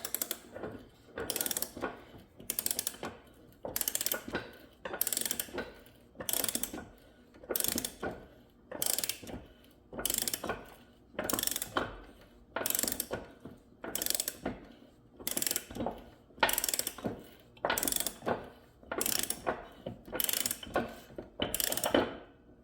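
A ratchet wrench tightens bolts on a Toro mower deck, giving bursts of rapid clicking in an even rhythm, close and clear, repeated many times with short pauses between strokes.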